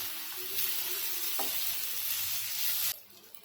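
Spinach and potato vegetable cooking in a pan over low gas, giving a steady close sizzle and soft stirring scrapes that stop abruptly near the end.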